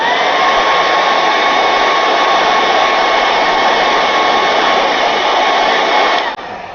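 A hair dryer blows over fresh paint on a decorative painted craft box, a loud, steady close-up whir that holds for several seconds before cutting off abruptly.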